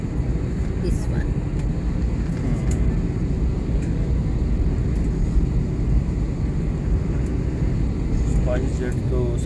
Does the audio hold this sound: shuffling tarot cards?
no